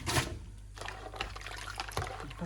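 Dirty water from washing socks is poured out in a splashing, gurgling rush, close and fairly loud, with a few sloshing bursts and no talking.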